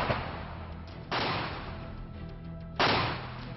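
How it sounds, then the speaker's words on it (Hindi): Gunfire at a border village between India and Pakistan: two sharp, loud cracks about two seconds apart, each trailing off into open-air echo over a low outdoor background. "अभी भी फायरिंग वहां से शुरू हो चुकी है"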